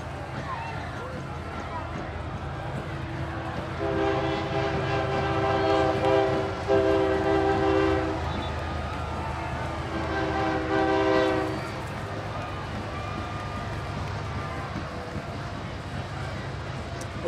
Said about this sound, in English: as the train rolls by